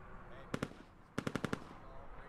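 Gunfire in the video game Squad: two quick sharp shots, a pause, then a fast burst of about five rapid shots, fairly loud over a low ambient rumble.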